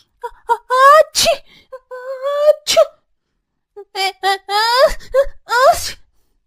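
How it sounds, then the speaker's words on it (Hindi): Two children sneezing from the cold, several separate sneezes with gasping, moaning vocal bursts in between, close and fairly loud, with short pauses between the outbursts. "तभी दोनों बच्चे ठंड से छींकने लगते हैं।"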